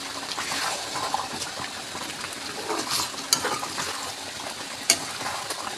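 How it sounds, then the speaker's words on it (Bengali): Goat liver curry with garam masala bubbles and sizzles in a pan under a constant wet crackle. Stirring scrapes come and go, with a couple of sharp clinks near the end and no talking. "এবার আস্তে আস্তে নেড়ে চেড়ে দেবো"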